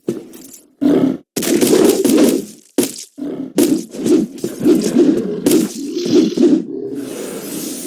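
A big wolf roars in the online shooter game Wolfteam, a series of loud, heavy growling bursts separated by short gaps, sounding close, with no talking over them.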